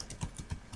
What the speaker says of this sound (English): I just start typing in DZ